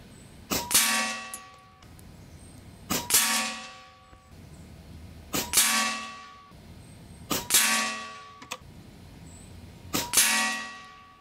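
Five shots from an Airgun Technology Uragan 2 .25 caliber air rifle firing heavy 34-grain pellets, each a sharp crack followed by a ringing metallic clang of the pellet striking the target, evenly spaced about two seconds apart, close and clear.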